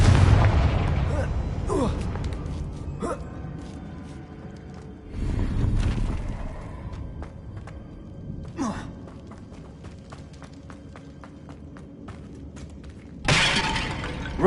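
Confringo spell blasts in a wizarding video game, several sharp shattering explosions spaced apart, with a big burst near the start, another midway and a last one at the end, separated by quieter crackling and a voice casting spells.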